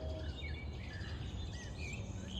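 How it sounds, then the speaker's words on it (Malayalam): Faint birdsong drifts in from a distance in a home garden in the United States: scattered chirps and short whistled phrases over a soft, steady outdoor hiss. "കിളികളുടെ നല്ല സൗണ്ടൊക്കെ കേൾക്കണുണ്ട് കേട്ടോ."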